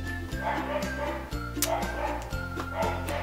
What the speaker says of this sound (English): My dogs have currently been barking for the last 20 minutes because across the street there's a dog and they're barking back and forth